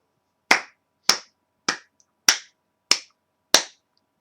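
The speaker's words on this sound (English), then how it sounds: "Clap there. Well, you know why I clapped?" Six sharp hand claps ring out alone at a steady, unhurried pace, each crisp and close with a quick decay and silence between them.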